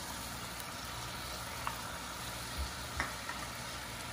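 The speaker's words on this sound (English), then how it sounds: "The sizzle." A quiet, steady sizzle of chamoy frying in a hot pan, with a few faint clicks and stirring sounds, no talking.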